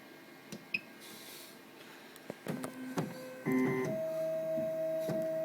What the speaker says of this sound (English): the machine will trace around the lens to make sure it's big enough for it to cut out